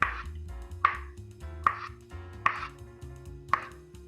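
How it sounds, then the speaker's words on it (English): A knife slicing through an avocado on a cutting board, five crisp, evenly spaced cuts about a second apart, close and clear over a low steady background hum, with no talking. "So I got some avocado here. Just gonna slice this up"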